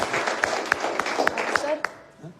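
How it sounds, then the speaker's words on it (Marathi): School students at a high school class-monitor election event break into a short burst of clapping, scattered individual claps standing out over a busy crowd and voices for a couple of seconds before fading. "तर पुन्हा एकदा जोरदार टाळ्या तुम्हा सगळ्यांसाठी."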